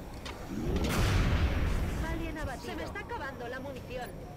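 Sniper gunfire in the video game XCOM Enemy Within: a loud booming shot swells and decays, with game sound effects trailing after it.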